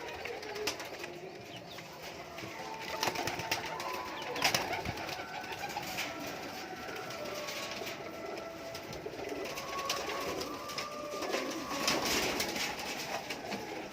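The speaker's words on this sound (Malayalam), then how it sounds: "ഇത് ഫാൻസി പ്രാവിൻ്റെ കുഞ്ഞുങ്ങളാണ്, 2 എണ്ണം" Fancy pigeons and their chicks in a small open loft coo steadily and overlap throughout, with soft rustling and occasional brief wing flaps close by and no voices.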